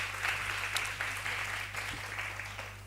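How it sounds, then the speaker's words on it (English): Sustained applause from an audience at a university occupational therapy research day, honouring the fourth-year class; steady dense clapping throughout with no talk. "I think we should give the fourth year class another round of applause,"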